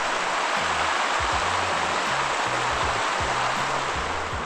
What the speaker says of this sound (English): you can still see the steaming, boiling hot water. It's really flowing here.